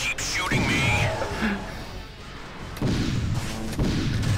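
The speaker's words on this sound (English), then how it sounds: "Those turrets keep shooting me." Enemy turrets fire in the space-combat game Wing Commander Prophecy, a booming, rumbling barrage with sharp onsets near the start and again midway, under a continuous layer of game sound and possible voices.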